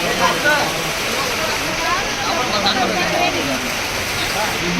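Heavy rain pours at Southadka Ganapathi temple in Karnataka, a dense steady hiss of water throughout, with people talking beneath it.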